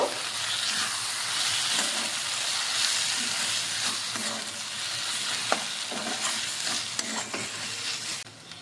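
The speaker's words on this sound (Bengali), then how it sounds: "একটু নেড়ে নেব" Chopped ginger and coriander leaves stirred in a hot pan for an eggplant bharta, a continuous sizzling hiss with intermittent scraping strokes of a spoon, close and steady.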